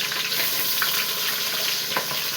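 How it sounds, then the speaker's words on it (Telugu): Chopped onions hit hot oil in a frying pan already holding green chillies for a tamarind-leaf chicken curry, giving a loud, steady sizzling hiss close by with a few faint stirring scrapes and no talking. "అదిగో ఆనియన్స్ వేసేస్తున్నాను చూడండి"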